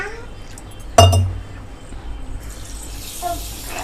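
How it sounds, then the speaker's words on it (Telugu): A cup of water is tipped into a pot for sugar syrup, opening with a sharp clink and a short splash, then a quieter trickle and some faint handling noise. "ఇదే కప్ తోటి 1 కప్పు నీళ్ళు పోసుకుందాం."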